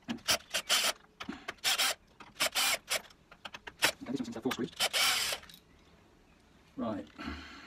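Screws being undone from the hinge of a top-hung UPVC window with a power driver, giving repeated short whirring bursts with pauses between them, close and moderately loud.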